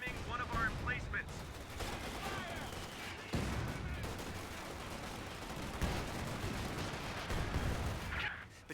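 Gunfire rattles in the World War II strategy game Company of Heroes: Ardennes Assault, with dense machine-gun bursts and scattered explosive shots continuing steadily under occasional shouted voices.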